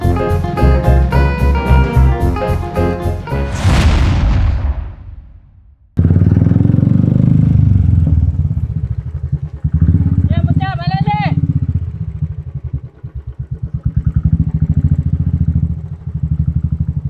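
Motorcycle being ridden, the engine running loud and close with revving, a brief cutoff and clatter, as people talk over it throughout.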